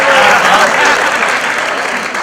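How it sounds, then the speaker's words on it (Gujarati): Dense, steady applause from the audience at a live comedy show in Mehsana, loud and close, filling the whole stretch with a wash of clapping and crowd noise. "तालियां बजाओ तो ऐसे बजाओ कलाकारों को जोश आ जाए"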